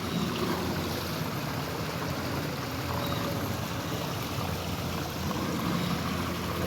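Waterfall beside a lake, a steady dense broadband rush of falling water that stays constant and fairly loud throughout, with no voices.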